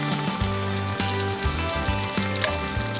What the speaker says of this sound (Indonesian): Goreng hingga ikan berubah warna menjadi coklat keemasan.